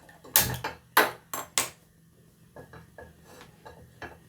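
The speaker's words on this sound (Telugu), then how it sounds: "నేనైతే కుక్కర్ పెట్టేశాను." Pressure cooker set down on a kitchen stove while cooking meal maker biryani: three sharp metallic clanks in quick succession, then a string of softer clinks and light scrapes, close by with no talking.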